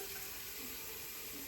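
Tap water runs steadily into a sink while cleansing balm is rinsed off a face, a soft continuous hiss held at an even level without pauses or voices.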